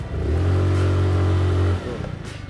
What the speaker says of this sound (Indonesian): Nih coba saya gasnya saya langsung full nih